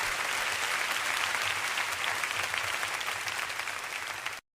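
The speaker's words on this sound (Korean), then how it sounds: "우리 주님 앞에 감사의 박수 올려드립시다." A church congregation applauds after a prayer, a dense, steady wash of many hands clapping at moderate distance that continues evenly before cutting off abruptly.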